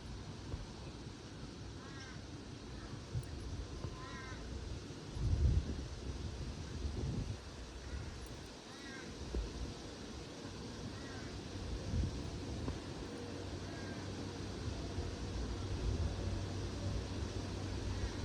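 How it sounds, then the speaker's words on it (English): Wind gusts buffet a microphone outdoors in a continuous low rumbling roar, swelling in places, while faint bird calls sound in the distance. "Wow, the wind."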